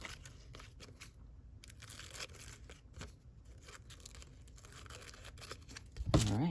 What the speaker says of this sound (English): Now I'm just going to cut all the excess off.